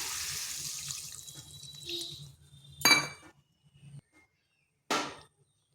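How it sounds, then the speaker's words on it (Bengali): Water poured into a cooking pot while making a prawn and cucumber curry, a steady splashing pour with faint kitchen hum, followed by two sharp metallic clinks of utensils against the pot. "এখানে আমি দুই বাটি জল দিচ্ছি"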